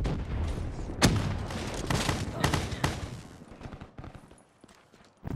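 Shotgun fire in the Black Ops 3 video game, several sharp booming blasts in the first three seconds, then fading to quieter clatter.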